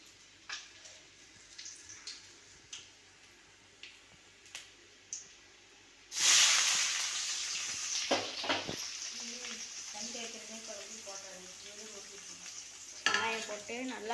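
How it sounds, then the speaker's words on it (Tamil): Onions drop into hot oil with mustard seeds and garlic for vendakkai pulikulambu, bursting into a loud sizzle that settles into steady frying. Light clicks come first, then stirring scrapes and a brief voice later. "வெங்காயம் போட்டு நல்லா அப்படி வணக்கி வைக்கணும்."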